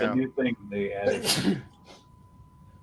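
A sneeze bursts out at close range partway through, sandwiched between brief casual conversation and followed by quieter room sound.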